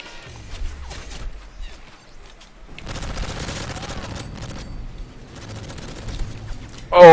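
Bursts of gunfire in a shooter video game as an enemy is hit, with fairly faint rattling shots over background noise and a sharper burst near the end.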